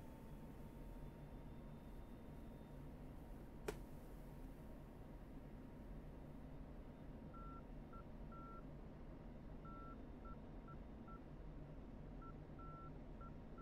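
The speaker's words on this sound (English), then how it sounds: "The beeping you hear in the background is the Morse code associated with the TACAN and the ILS" Morse code identifier tones from TACAN and ILS navigation beacons in a DCS F-16C flight simulator cockpit: faint, evenly spaced short and long beeps repeating over a steady engine and air hum, with one sharp click partway through.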